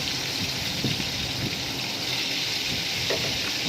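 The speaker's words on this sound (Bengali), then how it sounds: "তেলটা গরম হওয়ার পরেই আমি পটলটা কড়াইতে ছেড়ে দিলাম।" Pointed gourd pieces fry in hot oil in a wok with a little salt and turmeric, giving a continuous, even sizzling hiss that stays close and steady throughout without speech.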